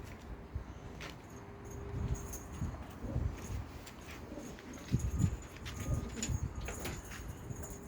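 Soft, low cooing of Elvan pigeons repeats in irregular bursts, with faint rustling and fluttering in the background.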